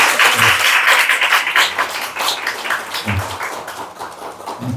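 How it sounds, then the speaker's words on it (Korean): A church congregation at a Sunday morning service applauds, steady clapping of moderate loudness with a low murmur and occasional thumps beneath. "우리 한번 박수 한번 쳐주세요"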